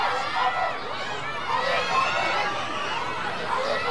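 A crowd cheers and roars steadily in the stands at the final round of the third leg of the Thailand national BMX championship at Kamol Sports Park in Nong Chok, with a dense, continuous wash of many voices.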